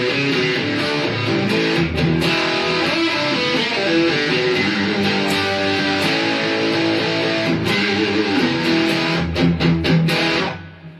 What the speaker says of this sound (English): we've got some serious distortion.